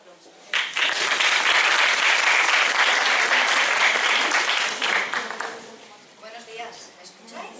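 An audience at a talk in Murcia breaks into loud sustained applause, dense clapping that holds for several seconds before thinning out as a voice begins speaking.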